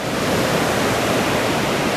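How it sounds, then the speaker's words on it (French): Surf breaks at Anglet beach on France's Atlantic coast as a steady, full roar of ocean waves, with no voices. "il y a quand même de très très bonnes vagues qui passent"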